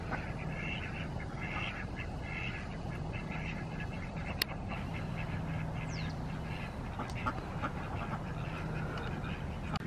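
Ducks quack repeatedly at a moderate distance, mixed with steady outdoor background noise and occasional voices.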